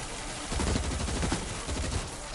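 Rapid bursts of gunfire in the video game World War Z, aimed at walkers at a gate, with dense overlapping shots that swell and ease in a loud fusillade.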